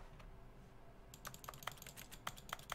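Mouse or keyboard clicking while playing The Stanley Parable: Ultra Deluxe, starting after a quiet second and continuing as about a dozen sharp, irregular clicks over faint room hum.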